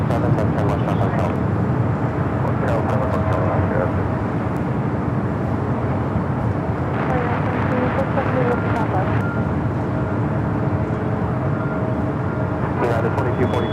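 A 26-year-old Boeing 777-200ER airliner arriving at Los Angeles International Airport from Newark, a steady, broad jet roar holding at an even loudness throughout, with voices talking over it.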